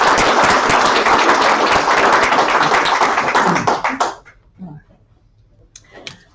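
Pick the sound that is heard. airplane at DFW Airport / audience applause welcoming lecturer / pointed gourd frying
audience applause welcoming lecturer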